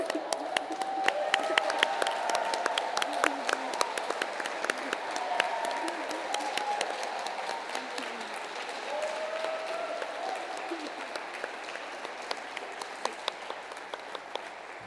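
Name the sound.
audience applause for award finalists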